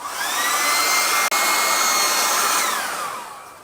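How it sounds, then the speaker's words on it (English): A hairdryer blows with a steady, high whine and a brief cutout partway through, then its pitch sinks as it winds down. "I'm going to force that to dry with the hairdryer now."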